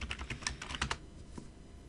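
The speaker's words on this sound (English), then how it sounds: "I've made a mistake typing." Quick bursts of typing on a computer keyboard while entering a password during a Debian 6 server setup, several close, crisp keystrokes in the first second trailing off into a quiet room.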